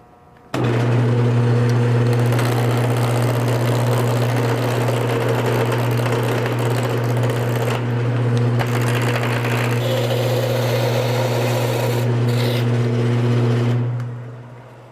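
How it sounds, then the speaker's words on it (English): A wood lathe spins a wooden mallet blank while it is turned down into a cylinder, giving a steady, loud motor hum with a constant drone throughout and a few scraping cutting passes, no talking. "fastened into the lathe, and I'm ready to start turning. The first step is to turn it down into a cylinder again."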